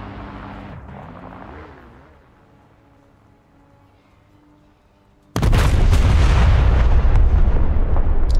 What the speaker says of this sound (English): And listen to the main caliber guns.